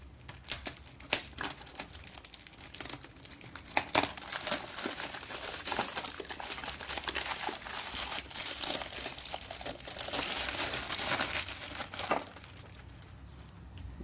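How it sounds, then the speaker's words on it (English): Plastic packaging around a keyboard is cut and peeled open nearby, a steady run of crinkling, crackling and tearing with sharper snaps, quiet and alone without talk. "Let me cut it now, the plastic, to see how it actually looks."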